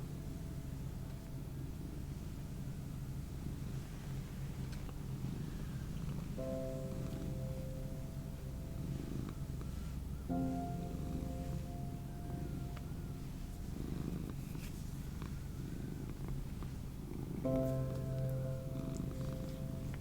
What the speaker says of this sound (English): Are we gonna get some more Beanie purrs?